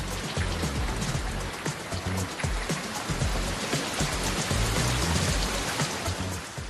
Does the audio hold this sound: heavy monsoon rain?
yes